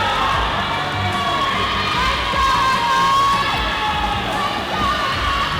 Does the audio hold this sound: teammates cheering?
yes